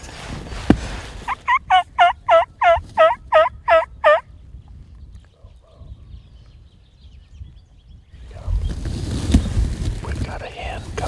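A Rio turkey hen in the field gives a run of about eight rhythmic, clear yelps near the microphone, followed by a quiet stretch, then rustling and low whispered talk.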